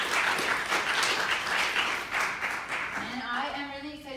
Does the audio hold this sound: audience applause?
yes